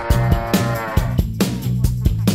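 A cow moos in loud, close, repeated lowing calls with strong harmonic tones, interrupted by sharp thumping chops against a rural backdrop.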